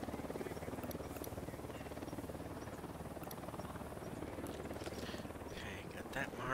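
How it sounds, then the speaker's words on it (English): Helicopter in the video game Ghost Recon Wildlands, a steady faint rotor drone held throughout at a distance under quiet game ambience. "Got a chopper"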